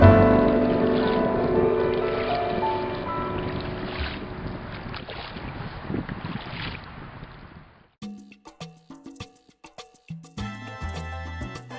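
A canoe being paddled with J strokes on open water, a steady wash of water and wind noise for most of the stretch before it gives way to soft plucked music.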